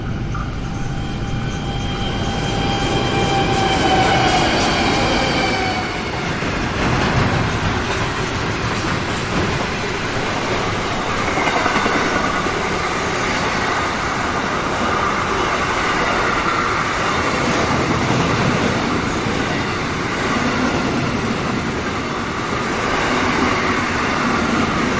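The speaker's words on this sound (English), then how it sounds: "and here comes the train." A train rolls past a roadside camp in rural New South Wales on the line near Condobolin, a steady loud rumble with faint clickety-clack and a brief high squeal early on, holding for the whole stretch with no talking.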